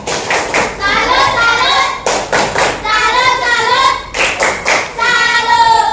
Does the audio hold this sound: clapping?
yes